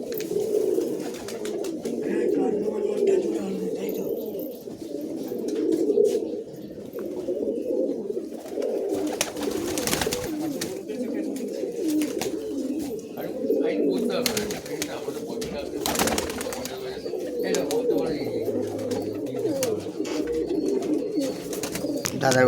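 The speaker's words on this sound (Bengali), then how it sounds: "দাদার বাড়িতে প্রচুর পায়রা" Giribaz pigeons coo steadily and continuously at a house loft, many birds overlapping in a dense murmur that stays close and fairly even throughout.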